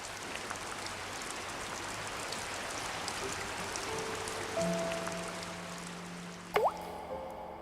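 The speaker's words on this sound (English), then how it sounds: "The rain beats down on the river." Rain patters onto a river surface in spawning season, a broad steady hiss of drops with distinct nearby drips and splashes standing out, and a couple of brief tonal squeaks near the end.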